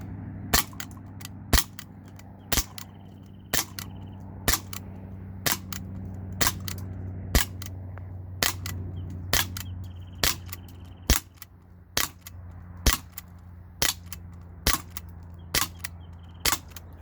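A CO2-powered Glock 19 replica BB pistol firing .177 steel BBs, delivering a long series of sharp, close cracks at a fairly steady pace of roughly one per second over a low constant hum.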